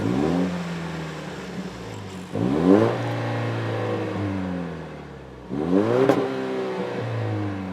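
A 2024 Toyota Tacoma TRD Off Road pickup truck drives close by, revving up three times with rising engine whines and dropping back between each climb.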